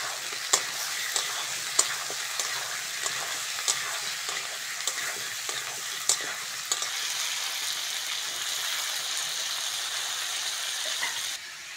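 Village-style pan of cut, washed potatoes frying with onion and tomato, giving a steady bright sizzle, with frequent sharp scrapes and clinks of a spatula stirring throughout.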